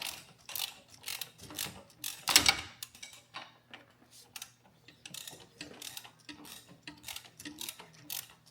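A ratchet clicks in rapid bursts while loosening the 18 mm through bolt on the upper transmission mount of a Dodge Caliber SXT 4x4 with a JF011E CVT, close and crisp, with a heavier metallic clunk midway.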